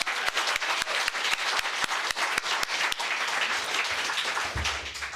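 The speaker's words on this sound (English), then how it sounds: "Let's give them another round of applause." A congress audience applauds a panel, broad crowd clapping with a few sharp, evenly spaced loud claps standing out near the microphone, continuing steadily for several seconds.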